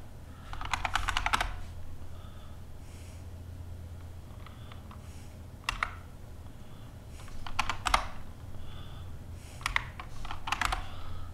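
Computer keyboard typing a terminal command on an Arch Linux system: bursts of quick clicky keystrokes, close and crisp, separated by short pauses over a faint low hum, with no talk.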